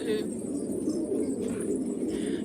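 Domestic pigeons cooing in a loft, a steady low murmur of overlapping coos running throughout at moderate loudness, with faint chirps above.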